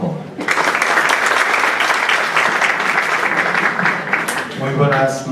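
University audience at an academic research event applauding after a vice-rector is introduced, a sustained loud burst of clapping that fades as a voice begins speaking at the end.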